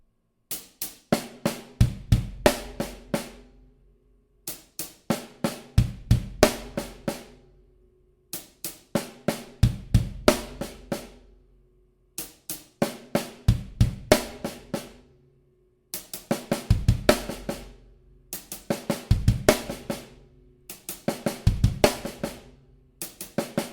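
A drum pattern on snare and kick played alone, short bursts of hits repeating in regular groups with brief gaps between, close and crisp.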